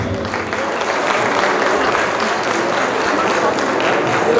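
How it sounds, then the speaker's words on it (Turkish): A crowd applauds steadily, dense clapping loud and sustained for several seconds without a break. "Sazende heyetine kuvvetli bir alkış alabilir miyiz efendim?"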